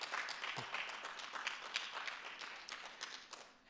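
Applause for a city transportation committee at a Gaithersburg State of the City event; a moderate crowd claps steadily in a large room, quiet overall, fading slightly toward the end.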